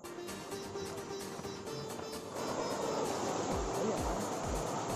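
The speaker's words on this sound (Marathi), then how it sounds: "हा पाण्याचा आवाज, हा आवाज आहे ना" Natural water flowing steadily at a rural hillside temple setting, a soft continuous rush that swells louder halfway through, with a faint tonal hum early on.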